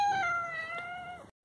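A single cat meow, drawn out for about a second at a steady pitch and then sliding down at the end, clear and close with nothing else around it.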